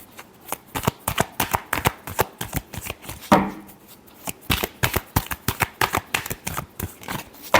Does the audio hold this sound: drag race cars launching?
no